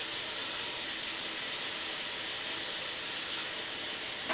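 Tap water running steadily in a kitchen sink while hands are washed with soap, a continuous close hiss with no voices.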